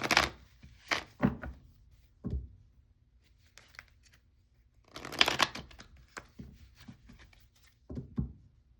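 Tarot cards being shuffled: a run of crisp, papery riffles and slaps in bursts, a dense flurry midway, fairly close and moderately loud with quiet gaps between, no voices.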